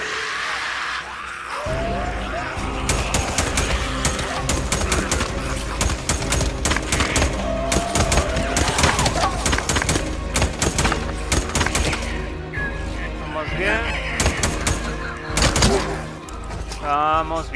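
Rapid bursts of gunfire in Days Gone, sharp repeated cracks in short volleys over a busy background, with a voice talking at times.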